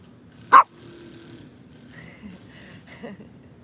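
One sharp dog bark near the start, followed by faint yips and quieter noises against a low background hum.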